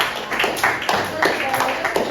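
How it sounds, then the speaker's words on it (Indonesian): A classroom audience claps for a student group, a brief round of scattered, moderately loud handclaps in a small room, with voices talking underneath. "Boleh berikan tepuk tangan kepada kelompok."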